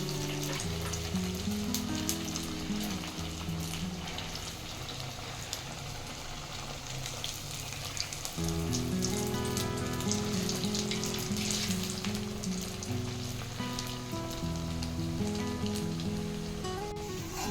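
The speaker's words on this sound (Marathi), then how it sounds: "किती सुंदर तळत आहे आपले वडे." Sabudana vada deep frying in hot oil, with a steady, dense sizzle and bubbling that carries on without a break and no talking.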